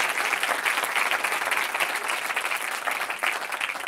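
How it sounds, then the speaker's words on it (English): An audience applauds a pianist who accompanies a silent film live, with close, loud, dense clapping that continues at an even level throughout. "Shall we have a round of applause for Mr."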